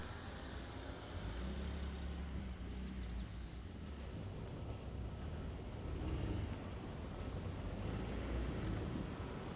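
A 2017 Ford F-150 Raptor crawls off-road over spaced logs with a steady low engine rumble and a few soft thuds and bumps, heard from inside the cab.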